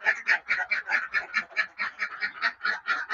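Laying ducks in a dry coop quack in a rapid, regular series of nasal calls, close and fairly quiet, with no other sounds between them.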